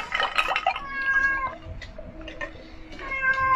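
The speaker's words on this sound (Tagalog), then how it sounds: "Kakainin ni Tati yung pusa." A cat meows repeatedly in short, tonal calls with a brief pause between them, fairly close, amid faint background noise, during a balut eating session.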